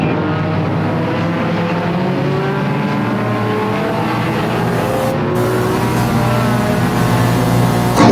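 Race cars with bumpers dragging battle side by side at Flamboro Speedway's Halloween Enduro 200, a dense, loud, continuous roar of several engines with shifting pitches and no gaps.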